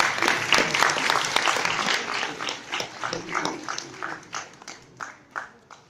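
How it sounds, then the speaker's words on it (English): An audience breaks into dense applause that fades gradually into scattered, slowing claps over several seconds, with faint voices underneath. "I think that deserves a round of applause"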